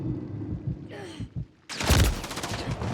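Gunfire in Modern Warfare 3 erupts as a sudden loud burst of close shots in the last half, after quieter game ambience and a brief whoosh.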